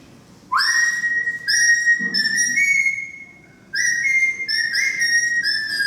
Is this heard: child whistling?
yes